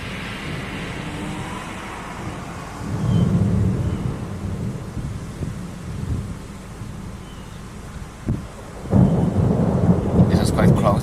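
Thunder from a close lightning strike about 3.5 kilometres away during a Florida thunderstorm rolls as a long, deep rumble under steady rain, then a loud crack near the end swells into renewed rumbling.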